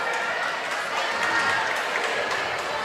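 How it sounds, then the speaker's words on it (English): Packed gym crowd at a girls' middle school basketball game, a steady dense roar of cheering and chatter throughout, broad and fairly loud, with commentators talking over it. "Well, good crowd here tonight on both sides."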